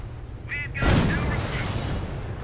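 Gunfire and artillery booms from a war strategy video game, a burst of shots and a heavy blast mixed with game effects and a voice, fairly loud and continuous.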